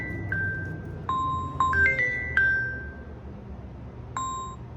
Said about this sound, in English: Someone's trying to call my mom's phone.